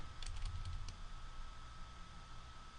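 Computer keyboard keys tapped during image editing, a short burst of several quick clicks at the start, then steady background hiss.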